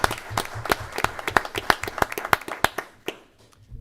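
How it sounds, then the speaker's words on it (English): A small audience claps for a student at a school board meeting, an uneven round of applause from a few pairs of hands close by that thins out and stops near the end. "So let's get a picture and give him a round of applause"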